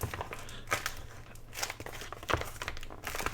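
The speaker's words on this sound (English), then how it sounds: "Now, we're going to crumple this a little bit." Paper crumpling from a notebook insert cut from a tissue box, close up: repeated crinkling and tearing crackles in irregular bursts, moderately quiet, with no talking.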